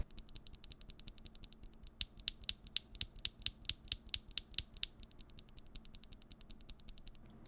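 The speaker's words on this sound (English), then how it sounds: "the B-Sun Paradise Island Pre-Lube Linear Switches by Rusty Axis" B-Sun Paradise Island pre-lubed linear mechanical keyboard switches on a Neo70 keyboard are pressed in a quick run of crisp, clacky taps, close up, with fainter keystrokes before and after the main burst.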